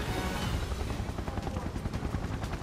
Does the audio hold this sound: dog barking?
no